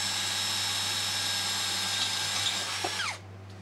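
A power drill set to drill mode bores a hole with a steady high-pitched whine that holds for about three seconds, then spins down and stops, close and fairly quiet, with no talking.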